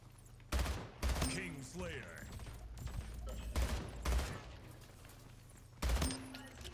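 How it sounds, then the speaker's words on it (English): Gunfire in the online shooter Splitgate, with several loud bursts of shots spaced a second or two apart and whooshing game effects between them, heard from up close. "shot him right before he can go into the portal"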